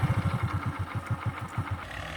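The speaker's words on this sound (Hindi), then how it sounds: "क्लच को इस तरीके से दबा के उसके बाद सेल्फ मारते हैं तो स्टार्ट हो जाएगी।" A motorcycle, in gear with the clutch held in, fires up on its electric self-start and settles into a loud, close, steady thumping idle, with no one talking.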